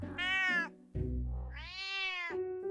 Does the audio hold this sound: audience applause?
no